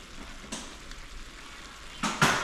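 Spoon stirring browning into cow foot stew in a pot, soft scraping strokes with a gentle sizzle, a louder burst of stirring near the end.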